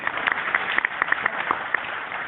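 An audience at a Sonalika tractor dealer event in Sirsa, Haryana, claps briefly. The scattered, fairly faint clapping comes from a crowd rather than building to a full ovation.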